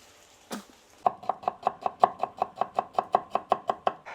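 A knife chops vegetables into large pieces for borscht on a cutting board, a steady run of about fifteen crisp, evenly spaced knocks, close and distinct after one earlier thump.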